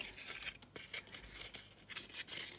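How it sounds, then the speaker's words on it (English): Scissors snip and crunch through a cardboard egg carton in a quick run of short, faint cuts close by, with the rough crinkle of the carton and no talking. "take my scissors"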